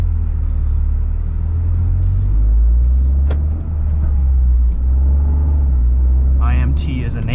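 A 2023 Toyota GR Corolla with a manual transmission, in sport mode with traction control off, pulls away on a race track with a loud, steady, deep engine rumble throughout.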